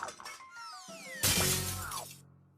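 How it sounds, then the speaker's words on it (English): A glass trout ornament shatters in a cartoon, a loud bright crash of breaking glass with tinkling fragments that rings out and fades over about a second, preceded by quieter cartoon effects. "That was my favorite glass trout."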